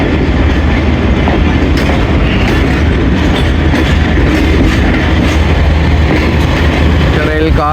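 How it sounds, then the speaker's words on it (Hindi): Heard from on board Railcar 101 Up, a Pakistani railcar running from Lahore to Rawalpindi as it passes through a loop line: a loud, steady rumble with rhythmic clickety-clack of wheels over rail joints and a brief wheel squeal at the end. "लूप लाइन से हमारी ट्रेन गुजर रही है"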